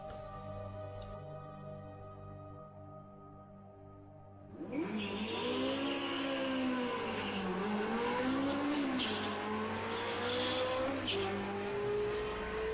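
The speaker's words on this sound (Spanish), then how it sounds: "Este auto eléctrico, por ejemplo, somete hasta una Ferrari de carrera" An electric car accelerating at racing speed, a smooth rising whine that surges in loudly after a quieter steady hum, sweeping up and down in pitch with tire noise underneath.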